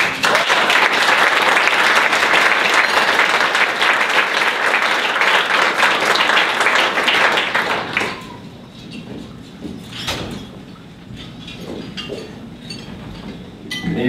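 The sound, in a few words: audience applause welcoming speaker at awards banquet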